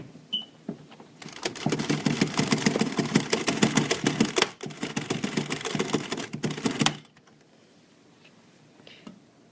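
NSI circular knitting machine being hand-cranked, a dense rapid mechanical clatter of needles and cams for about six seconds with a brief pause midway, then stopping, leaving quiet handling sounds.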